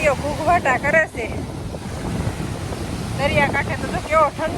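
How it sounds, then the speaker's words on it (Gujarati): Sea surf roars steadily along the windy shore at Alang ship-breaking yard near Bhavnagar, a broad continuous wash with strong wind buffeting the microphone, while a voice talks intermittently over it close by. "દરિયો ઘૂઘવાટા કરે છે."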